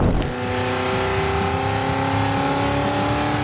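A Ford GT's engine holds a steady, loud drone with strong harmonic tones after a brief initial burst, sounding close and continuous with no talk.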